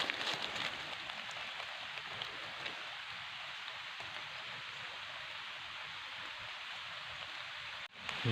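Rain falls in a forest during mushroom picking, a constant soft hiss of drops spread evenly and heard from all around, with no talking.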